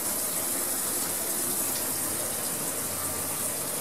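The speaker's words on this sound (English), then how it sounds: "I got it outside with a garden hose shooting water down the side of the screen, and of course it's raining" Steady outdoor rush of water from a garden hose spraying down the side of a portable projection screen while rain falls, a constant broadband hiss with no breaks and no voices.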